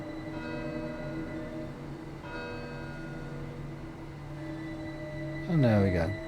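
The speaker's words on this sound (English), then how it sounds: "Church bells going off." Church bells chime in Train Sim World 3 on the East Coast Way line, a steady sustained ringing under a rumbling train, with a brief louder passage near the end and a voice talking throughout.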